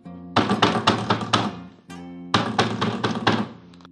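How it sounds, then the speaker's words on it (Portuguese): Loud, close knocking on the wooden door of a farmhouse main house at night, two insistent bursts of rapid heavy thuds separated by a brief pause, with no voices. "de nome Severino Panelada, forçando a bater a porta da casa sede para acordar seu patrão e compadre."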